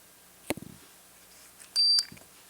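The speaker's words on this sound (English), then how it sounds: "It's a fine little motion detector" A Jameco motion detector kit sounds one short high electronic beep, alone and fairly loud, after a couple of small clicks in a quiet room.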